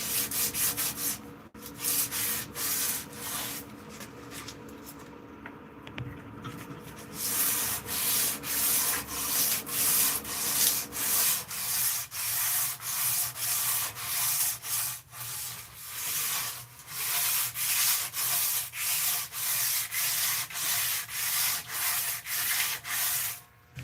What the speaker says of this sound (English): let's get back to hand sanding a little bit